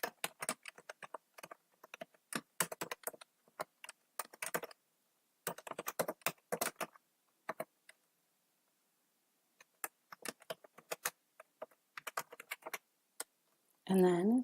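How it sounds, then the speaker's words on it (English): Someone types an email address on a computer keyboard: quick bursts of crisp key clicks separated by short pauses, close and clear, with a brief rustling noise at the very end. "go ahead and type in your email address."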